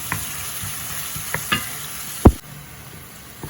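Onions sautéing in a pan for a stingray curry fry, with a steady low sizzle broken by a few sharp stirring scrapes and one loud clack near the middle.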